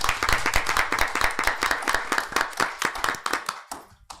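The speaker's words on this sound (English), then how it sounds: "Let's give her another round of applause." Applause from a small crowd at a city commission meeting in South Bay, Florida, with distinct, close hand claps in a quick rhythm that thin out and fade to a few scattered claps at the end.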